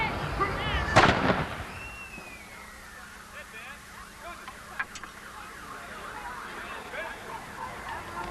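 Gunfire in a Patriots Day battle reenactment in Medford Square: one loud, sharp blast stands out near the start, a fainter crack follows later, and the rest is an outdoor crowd murmur.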